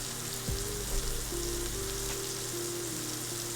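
Food for shrimp scampi sizzling and caramelizing in a pan, a constant close frying hiss with a low background hum, with no talking.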